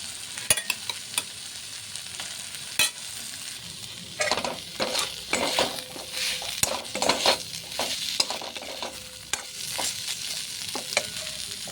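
Peas and potatoes are tipped into a pan of sizzling cooked-down spice paste, with soft frying hiss and scattered scrapes and clinks of a spoon stirring against the pot.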